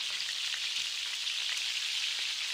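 Semolina snacks fry in oil in a pan, giving a steady, close sizzle with fine crackling that runs evenly throughout with no talk.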